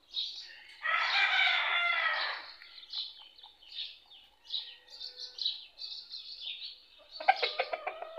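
A rooster crows nearby in the morning, a long strained call, followed by scattered chirps and shorter clucking calls from hens and other birds.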